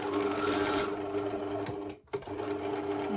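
A sewing machine stitches fabric for a padded laptop sleeve, set to 2.5 stitch length with the needle centred; a loud, steady whirring run continues with only a brief break midway.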